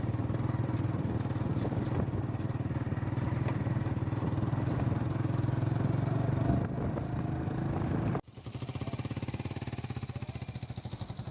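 A small-engine ferry boat crossing the Musi River chugs steadily and loudly, with a rapid, rattling mechanical pulse. Partway through it cuts briefly and resumes with a sharper, faster beat.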